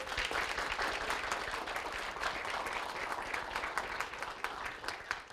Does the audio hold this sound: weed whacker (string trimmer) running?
no